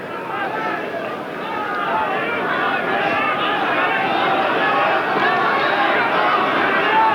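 A rugby crowd at a 1986 Newport RFC versus Swansea quarter-final roars steadily in support of Newport, the cheering swelling slightly as it goes, while a commentator talks over it.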